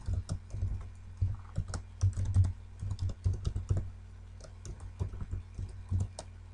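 Someone types a password on a computer keyboard, producing irregular bursts of crisp, close key clicks with short pauses between groups of strokes.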